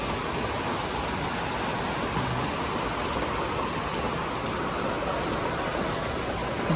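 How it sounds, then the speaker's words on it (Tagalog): Heavy rain pours down steadily as a dense, loud, unbroken hiss of drops on surfaces, constant from start to finish with no voices. "Lakas talaga ng ulan."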